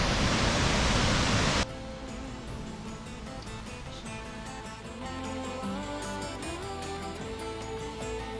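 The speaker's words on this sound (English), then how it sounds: "the waterfall's right that direction" Waterfall at Lynn Falls in Scotland, heard as a loud, steady broadband rush for the first second and a half, then continuing more faintly as a constant wash beneath other sounds.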